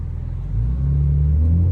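A BMW M3 F80 accelerates on a city street at night. Its deep engine rumble is close and loud, and it swells into a stronger, rising drone about halfway through.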